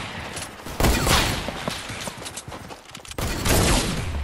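Sniper gunfire in a duo shootout video game: two loud, close gunshots about two seconds apart, each followed by a ringing, noisy tail. No one talks over them.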